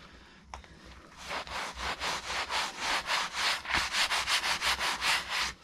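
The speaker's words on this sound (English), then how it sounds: "I'm just going to wipe it down with some sawdust," Rhythmic rubbing strokes of sawdust wiped by hand across wet timber for a timber frame cabin, a steady series of about fifteen close, evenly paced scrubbing passes.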